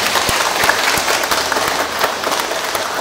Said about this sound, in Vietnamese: Chúng ta cùng chào người bằng một tràng pháo tay nồng nhiệt.